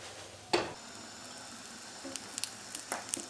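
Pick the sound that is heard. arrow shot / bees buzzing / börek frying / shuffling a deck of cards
börek frying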